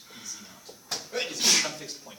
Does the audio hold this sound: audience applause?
no